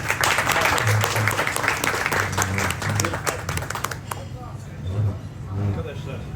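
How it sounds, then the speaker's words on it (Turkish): Applause for Faik Bey at an awards ceremony, a dense burst of clapping from a crowd that fades after about four seconds while people talk through and after it. "Hem ona bir alkış rica ediyorum."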